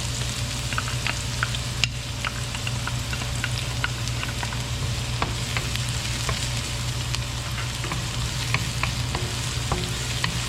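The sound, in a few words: onion and garlic sautéing in a pan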